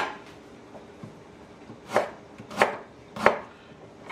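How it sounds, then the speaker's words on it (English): A knife cuts three thin slices of ginger on a cutting board in a home kitchen, three crisp, evenly spaced chops standing out near and clear over quiet background. "Three thin slices of ginger."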